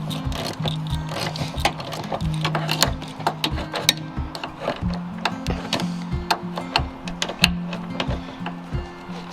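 A ratchet with an E14 socket loosens a bolt on a Smart Fortwo 450/451 during an ABS reluctor ring change, giving a steady run of quick, close mechanical clicks over several seconds.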